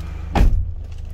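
A Hyundai H-1 Royale CRDi van door shuts with one solid, close thud over a low, steady diesel engine idle.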